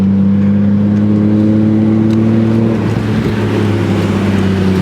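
A Nissan Skyline R32 GTR's RB engine drones steadily from inside the car while driving, loud and close, with a sustained smooth hum holding an even pitch throughout.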